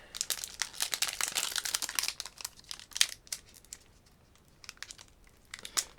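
Foil wrappers of Lord of the Rings collector booster packs crinkle and tear open, bursts of close, bright crackling rustles that come and go for several seconds.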